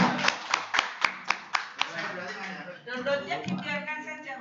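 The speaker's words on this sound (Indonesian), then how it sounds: "tepuk tangan dulu buat Bapak Ibu" A small group claps hands in a run of about eight sharp, spaced claps at a computer training session, then the clapping thins out into scattered, softer claps mixed with murmuring voices.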